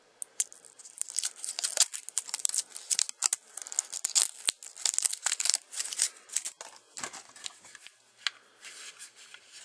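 Plastic crinkling, tearing and sliding from pulling a thin plastic battery tab out of a Flashmann wireless mouse, heard as dense irregular close-up rustles and small snaps for several seconds with no talking.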